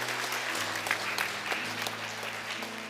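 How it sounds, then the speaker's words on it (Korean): Sustained, even clapping from a church congregation at Sunday worship, blessing another discipleship-course graduate, with a continuous low held musical tone underneath. "축복합니다. 큰 박수로."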